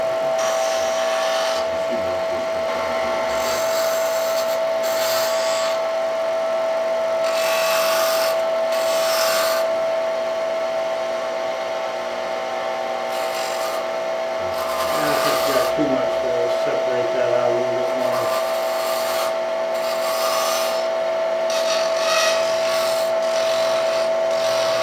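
Wood spins on a lathe under a steady motor whine, while a cutting tool rasps and scrapes against the turning piece in uneven passes, with occasional talk.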